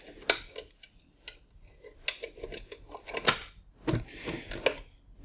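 Latches inside a Vaultek handgun safe release as a string of sharp metallic clicks and snaps, close and crisp, irregularly spaced with short pauses.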